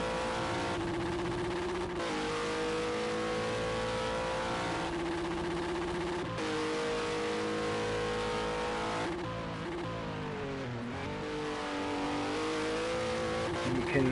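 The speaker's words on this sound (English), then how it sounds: "As you can hear, the Cadillac has a very weird limiter." Cadillac race car engine in Project CARS 2 bouncing off its rev limiter, a loud sustained high-revving drone with stuttering pitch drops and surges, tire noise underneath, no voices.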